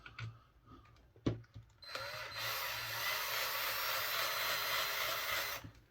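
A few clicks and taps, then a power drill whirs steadily and fairly loudly at close range for about four seconds before stopping, while installing center braces on a TLR Typhon RC car.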